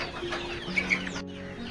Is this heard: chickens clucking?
yes